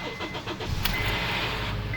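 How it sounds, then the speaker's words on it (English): A 2010 Honda Accord LX engine cranks and catches, then settles into a steady, loud idle, with a faint odd whine running above the engine during startup, recorded close up. "got a weird type of noise when I start the car."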